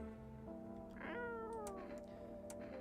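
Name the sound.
cat meowing in video game No I'm Not a Human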